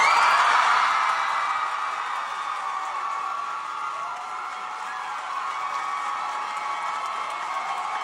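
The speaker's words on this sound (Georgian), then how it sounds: "აპლოდისმენტები გრძელდება" A large audience applauds and cheers as a performer makes a stage debut. The crowd noise is dense and sustained, with louder whoops at the start, then a steady roar.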